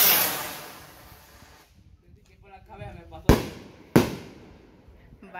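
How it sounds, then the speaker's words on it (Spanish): Fireworks crackle and hiss, then two sharp, loud rocket bursts explode about half a second apart, with faint crackling in between, at a quinceañera celebration. "eso es valor de tirar esos cohetes"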